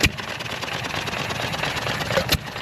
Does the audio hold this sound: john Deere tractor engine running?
yes